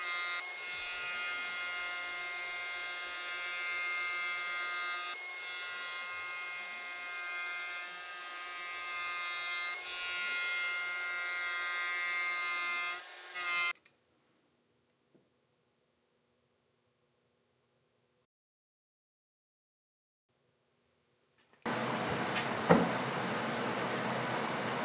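A power saw rips a test cut through a scrap wood piece used as a temporary fence, a steady loud whine lasting about fourteen seconds, then silence before another short burst of cutting noise near the end.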